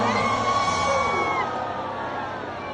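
A concert crowd at a Dubai show cheers and shouts in a sustained wash of noise that gradually fades slightly.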